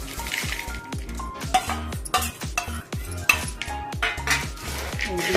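A utensil repeatedly scrapes and knocks against a pan while avalakki chuda (beaten rice snack) with curry leaves, chana dal and garlic is stirred, producing rhythmic clanks over a light sizzle, close and loud.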